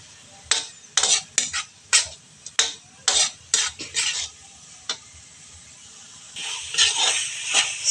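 Pork sautéed in a pan for a vegetable and coconut milk dish, with a utensil scraping and stirring in about a dozen sharp strokes over a soft sizzle that swells louder near the end.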